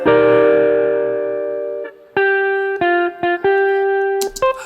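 A baritone saxophone plugin with overdrive distortion on plays a long sustained buzzy note, then a run of short detached notes and slides, loud and close with no talk.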